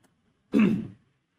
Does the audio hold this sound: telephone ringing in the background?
no